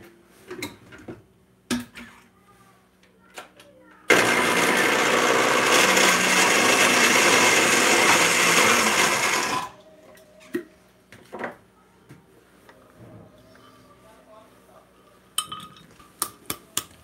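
Blender grinding pumpkin seeds for gluten-free Christmas cookies runs as one loud, steady burst of about five seconds, between quiet handling clicks and knocks.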